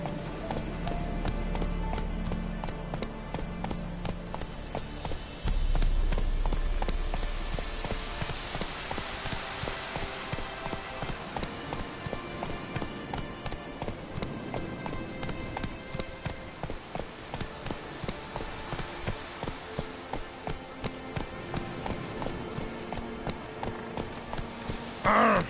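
A horse gallops in the video game The Witcher 3, its hooves pounding a steady rapid clip-clop rhythm throughout, close and fairly loud over ambient game sound, with no talk.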